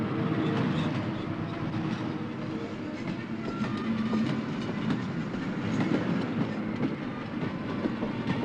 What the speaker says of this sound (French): on te rentre le train 4002, sur la voie 6